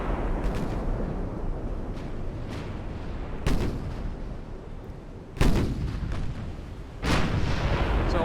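Pre-dreadnought battleships fire artillery in Ultimate Admiral: Dreadnoughts, with loud booming salvos going off every second or two over a rumbling sea-battle background. Several heavier blasts stand out near the middle and end.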